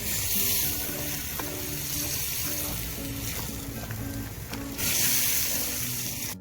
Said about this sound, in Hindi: पहले 1-2 मिनट इसके साथ इसकी भुनाई कर लीजिए।